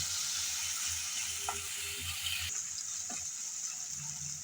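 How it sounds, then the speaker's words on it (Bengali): Garlic, ginger and onion frying in a pan for a small-fish Bengali dish, a steady hissing sizzle with occasional soft stirring clinks, moderately quiet and without talk. "আবারও একটু ভেজে নেব যাতে কাঁচা গন্ধটা চলে যায়"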